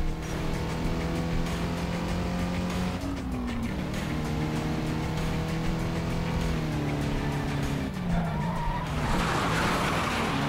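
A car skids under the handbrake in the racing video game Need for Speed Carbon: a steady, loud engine drone with shifting harmonic tones, then a broad hiss of tire slide near the end.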